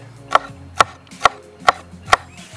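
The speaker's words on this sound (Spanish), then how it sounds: "ahora vamos a picar el verde." A knife chops through green pepper on a cutting board in five sharp, evenly spaced strikes about half a second apart, close and crisp with no talking.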